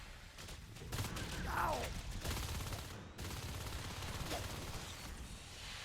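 Gunfire from the video game Natural Selection 2 during a competitive match: dense, continuous rapid shooting with scattered impacts, mixed under game ambience and a commentator talking over it.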